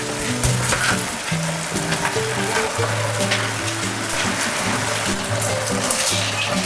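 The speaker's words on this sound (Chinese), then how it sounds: "倒入料汁， 大火收浓，让每块鸡肉裹上料汁" Sauce hits chicken pieces frying in a hot pan and bubbles down over high heat, a steady, loud sizzle and hiss that fills the whole stretch, with soft background music.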